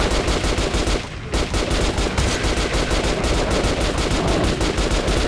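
The player's weapon in Metro Last Light fires in loud, close, rapid automatic bursts that run almost nonstop, with one brief pause near the start.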